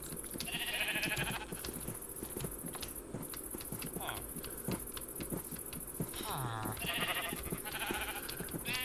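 Sheep in the Minecraft video game bleat repeatedly in wavering, nasal cries amid constant clicking hooves and a steady background hum, several animals overlapping across the stretch.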